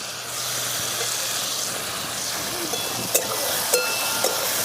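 Cashews dropped into a hot pan for whole-grape chutney with raisins, a steady soft sizzle and hiss with a few light clinks near the end, close and continuous without talk.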